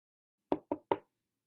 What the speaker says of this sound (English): Jenny gently knocks.